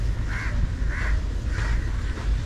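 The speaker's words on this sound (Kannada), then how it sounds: "ಜೊತೆ ಕಾಗೆಗಳು ಬಂದಿದ್ದಾವೆ" Crows cawing in a seaside park with playground swings and slides, three hoarse calls spaced about half a second apart over steady low outdoor rumble and traffic-like hum.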